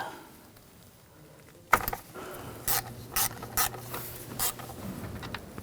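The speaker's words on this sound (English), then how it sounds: "Then we're going to take one of these bolts out, use a 10mm socket." A ratchet with a 10mm socket loosens a valve cover bolt on a 2000-2006 BMW X5 3.0L inline-six: one sharp knock, then four short bursts of close ratcheting clicks with brief pauses between them.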